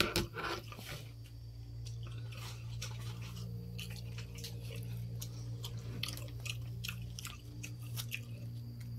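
Soft, wet chewing sounds with small irregular clicks and crunches, close up, over a steady low hum in a quiet room.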